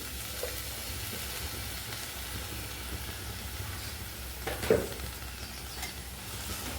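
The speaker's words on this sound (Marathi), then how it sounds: "आता हे चांगलं मी परतून घेते." Sprouted moth beans sauté in a hot pan with a continuous close sizzle and hiss, broken by a brief stirring scrape.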